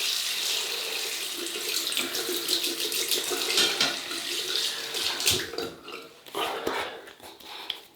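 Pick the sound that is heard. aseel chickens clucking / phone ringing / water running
water running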